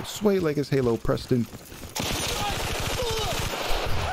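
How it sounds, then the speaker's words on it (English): Rapid automatic gunfire in the video game Battlefield: Bad Company, a fast stream of close, loud shots filling the second half, after someone speaks briefly. "I'm just shooting everywhere"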